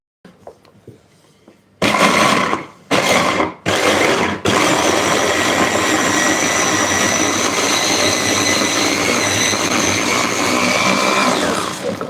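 Food processor mincing garlic, starting with a few short stop-start pulses, then running steadily as a loud whirring motor hum with a gritty chopping texture that holds to the end.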